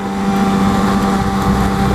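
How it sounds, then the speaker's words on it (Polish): A Maxus 33 boat engine runs loudly and steadily in forward gear at a constant pitch, with a continuous droning hum close by. "i silnik pracuje do przodu, na biegu do przodu"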